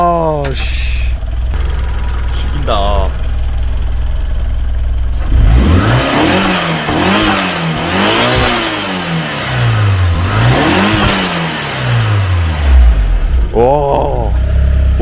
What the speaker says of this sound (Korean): 블로우밸브가 소리가 확실히 다르다